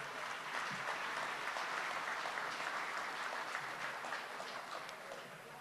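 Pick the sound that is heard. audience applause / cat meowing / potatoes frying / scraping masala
audience applause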